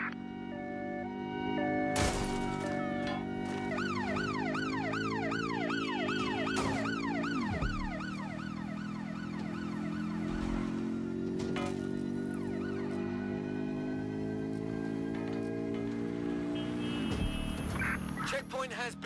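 An ambulance siren from the video game Watch Dogs: Legion wails in fast rising and falling sweeps for several seconds, then fades beneath a steady bed of low engine hum and other game noise.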